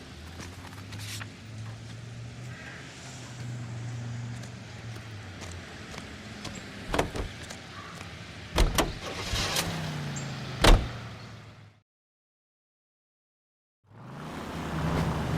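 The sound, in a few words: car driving in video game L.A. Noire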